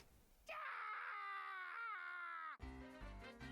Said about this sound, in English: Good scream.